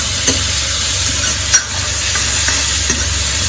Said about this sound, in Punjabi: ਭੁੱਜ ਰਹੀ ਹੈ ਕੱਦੂ ਕਸ ਕੀਤੀ ਹੋਈ ਗੋਭੀ